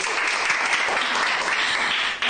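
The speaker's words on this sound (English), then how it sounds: "Can we have a round of applause," Dense, steady applause from an audience in a low-ceilinged room after a pink-pipe tune at a science-of-sound show, loud and continuous with no pauses before it drops off sharply at the very end.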